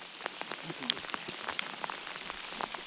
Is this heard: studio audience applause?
no